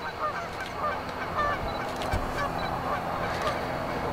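Geese honk from a river island in spring, a few scattered calls at moderate distance over a steady outdoor background.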